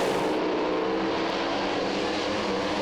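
Pro Slammer drag race cars at Willowbank's New Year Thunder roar down the strip under full acceleration, a loud, continuous, high-pitched engine scream that holds without letup.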